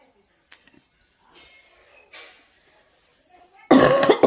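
A woman at home coughs in a few short, separate bursts spread over several seconds, ending with a louder, rougher burst close to the microphone.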